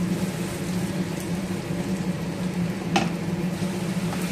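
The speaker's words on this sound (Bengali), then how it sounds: "মশলা কষানো চলছে" Spice paste for bhetki kalia fries in oil in a pan, a close, continuous sizzle with a faint clink partway through.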